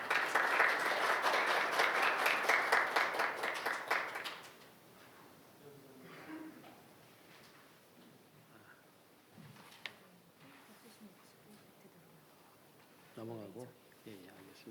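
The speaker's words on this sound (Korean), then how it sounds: "모두 큰 박수로 맞아주시기 바랍니다" An audience at a Korean AI education expert forum claps loudly for about four seconds to welcome a presenter, then the applause fades into quiet room noise with brief shuffling and a short voice near the end.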